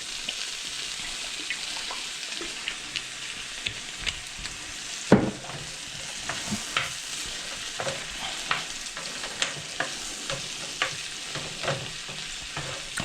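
A pan of scrambled eggs in olive oil crackles with a constant sizzle while a spoon scrapes and taps repeatedly, one louder knock midway, and nobody speaks.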